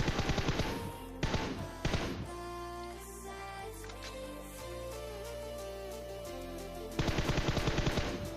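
Rapid bursts of automatic gunfire in a shooting video game, loud and close at the start and again at the end, with quieter tonal game sound in between.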